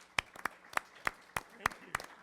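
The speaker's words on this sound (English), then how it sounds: "So let's give a round of applause" A few people clap slowly and sparsely after a lecture, about ten separate claps spread unevenly over a couple of seconds in a quiet room.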